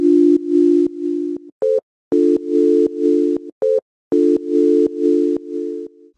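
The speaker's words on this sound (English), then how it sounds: "I'll focus on these sine chords first." Synthesized sine wave chords layered with a noise overlay play as sustained stacked tones in repeating pulses, with brief higher stabs between them, loud and alone in a soulful electronic music production.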